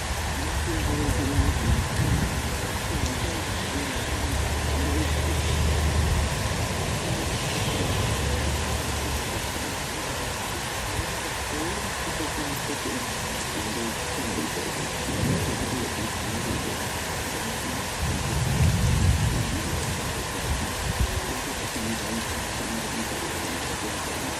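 Loud, dense downpour of heavy rain with deep thunder rumbling through at intervals, a continuous roar of an afternoon thunderstorm close by in Troy, Illinois.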